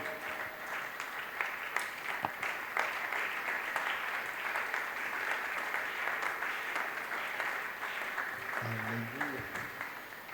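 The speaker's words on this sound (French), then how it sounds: "Put your hands together for Jesus." A church congregation at a spiritual emphasis service claps steadily for the whole stretch, a dense and sustained applause with a voice briefly rising near the end.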